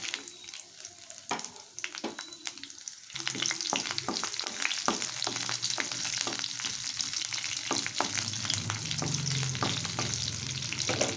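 Garlic and green chilies hitting hot mustard oil, a steady loud crackling sizzle with spatula scrapes and taps, close up, with faint talk at the start.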